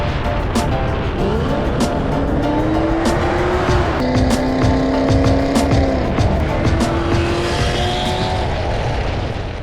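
A modified widebody Chevrolet Corvette C6 engine revs loud and close, its pitch climbing and dropping through several sustained revs with a rough, choppy idle between them.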